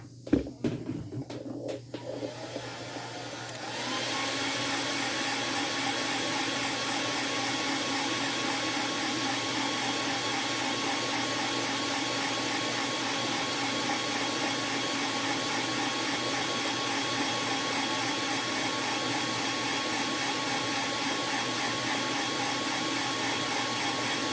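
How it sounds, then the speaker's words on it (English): After a few clattering knocks, a hair dryer switches on and blows in a steady, loud whoosh for the rest of the clip. "I need to hit that with a hairdryer real lightly."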